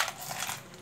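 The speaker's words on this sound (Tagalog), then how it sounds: "So, ang dami kong barya." Old coins from a large personal stash jingle and clink in a brief, close burst of metallic rattling, with no voice over it.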